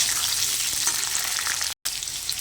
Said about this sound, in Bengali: একসঙ্গে ভালো করে একটু ভাজা ভাজা করে নেব।